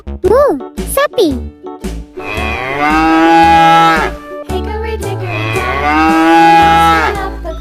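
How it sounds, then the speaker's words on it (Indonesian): A cow moos in long, loud, drawn-out calls, two clear bellows close by, with someone speaking briefly in between. "Sapi."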